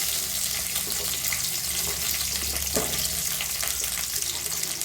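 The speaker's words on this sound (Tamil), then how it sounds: "வெந்தயம் பொரிஞ்சோன்னே வெள்ளைப்பூடு வெங்காயம் சேர்த்துக்கணும் அதோட ரெண்டு பச்சை மிளகாய்" Garlic, onion and green chilies fry with fenugreek in hot oil, giving a steady, close, broadband sizzle with faint stirring scrapes throughout, no voices.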